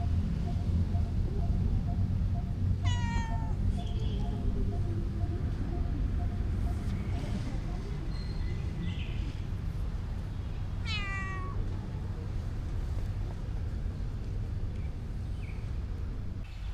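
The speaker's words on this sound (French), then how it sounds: "Il y a un chat qui vient me voir." A cat on a Sunday-afternoon walk through Bandung, Indonesia, meows twice, once early and once later, the calls distinct but modest over steady outdoor street noise and a low hum.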